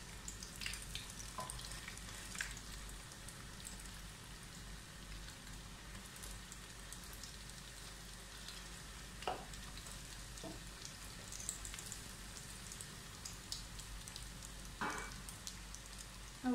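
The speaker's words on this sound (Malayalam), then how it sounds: "ഇനി ഒരു സൈഡൊന്ന് നന്നായിട്ട് മൊരിഞ്ഞ് വരട്ടെ." A chicken roll frying crisp in a pan over a medium flame, a faint steady sizzle with scattered soft pops and crackles, no voices.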